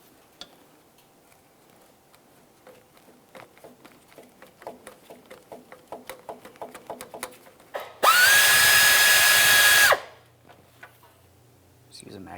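A power tool spins out a power steering line mounting bolt on a 2002-2009 Chevrolet Trailblazer 4.2L with a 1/4-inch drive 8mm socket and medium extension, a loud steady whir lasting about two seconds after a series of light ticking clicks.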